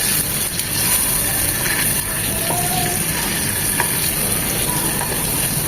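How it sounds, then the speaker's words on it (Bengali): Beaten eggs with chili and salt frying in a pan, a constant close sizzle and crackle with faint stirring clicks and no voices. "ডিমগুলো হালকা করে আলাদাভাবে এক থেকে দুই মিনিট ভেজে নেবো"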